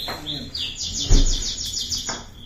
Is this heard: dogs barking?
no